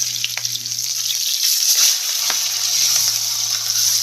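Milkfish (bangus) sizzles loudly in hot oil with a steady, close, hissing frying crackle throughout and a few faint knocks underneath.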